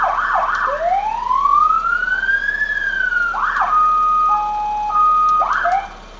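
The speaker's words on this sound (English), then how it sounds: "There's our siren." A siren on an International 4300 truck wails in long rising and falling sweeps, then shifts into a steady two-tone warble, loud and close with no talk over it.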